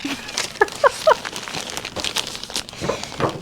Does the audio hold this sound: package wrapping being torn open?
yes